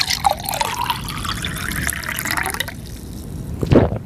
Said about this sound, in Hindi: एक ग्लास में पानी दिया